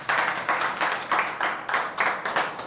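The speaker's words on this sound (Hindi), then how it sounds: "जोरदार ताली बजती है" Loud rhythmic clapping in a training session, about nine sharp, evenly spaced bursts of hands beating together in quick succession, close and prominent.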